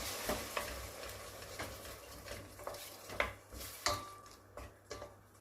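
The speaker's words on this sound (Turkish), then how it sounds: "birlikte karıştırıyorum" Spoon stirring a flour mixture in a cooking pot for a winter vegetable soup, soft repeated scraping knocks against the metal at an irregular pace, faint and close, with no talk.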